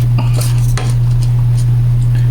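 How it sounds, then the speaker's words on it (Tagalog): Metal spoon clinks and scrapes in a pot of ginataang hipon, shrimp simmering in coconut milk, with scattered stirring knocks over a steady low stove hum and no talk. "Stir it."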